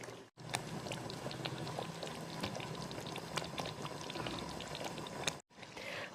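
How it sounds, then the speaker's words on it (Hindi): Chicken cooking with ginger-garlic paste and almonds under continuous stirring, giving a steady bubbling sizzle with scattered scrapes and clicks that cuts off briefly near the start and again near the end. "मैं इसे लगातार चलाते हुए कुक कर रही हूँ"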